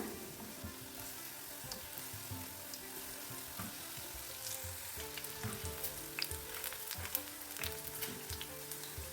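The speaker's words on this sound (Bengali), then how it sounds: "কাবাব ফ্রাই করবেন তেলটাকে প্রথমে হাই ফ্লেমে গরম করে নেবেন" Chicken kebabs frying in oil heated over a high flame, a steady crackling sizzle with dense popping that runs unbroken throughout, moderately loud and close with no voices.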